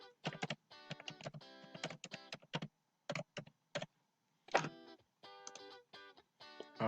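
Close-up typing on a computer keyboard while entering a password during online account registration: bursts of crisp key clicks in quick uneven runs separated by short pauses, fairly quiet and with no talking.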